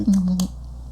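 A human voice imitates Woody Woodpecker's call, a single sustained nasal tone of about half a second, loud and close, followed by quiet room noise.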